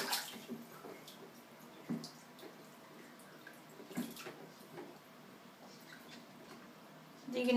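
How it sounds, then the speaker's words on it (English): Water splashing in a bathtub as a baby plays, with irregular soft splashes and drips, a few sharper bursts near the start, middle and end, close and fairly quiet. "Some more splashing, of course."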